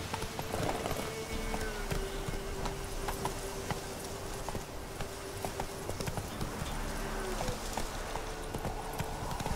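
A horse gallops in The Witcher 3: Wild Hunt, steady rapid hoofbeats clip-clopping continuously under a dense wash of game ambience and music.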